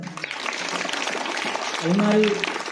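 Clapping rises from an audience at a school function honouring Class 12 students for gifting a cupboard and a fan, a dense patter mixed with voices talking over it.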